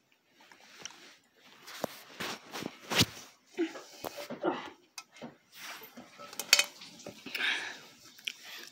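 A metal pan worn on someone's head slips and clatters, a series of faint scattered clanks and rattles in a quiet room.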